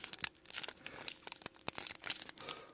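Foil packs of 2017 Phoenix football trading cards being torn open up close, a run of sharp crinkling and ripping bursts with brief pauses, no voices.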